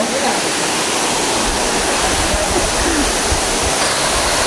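Batya Batya Falls, a waterfall in Siniloan, Laguna, roaring as a steady, loud, broadband rush of falling water that fills the whole span without a break.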